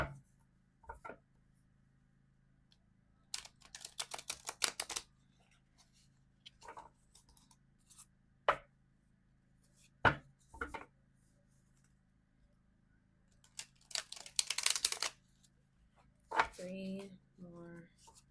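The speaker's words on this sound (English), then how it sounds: "We're going to do 3 more shuffles." Quick riffling and snapping of tarot cards in several separate bursts, close and crisp, with quiet pauses between and a voice briefly at the end.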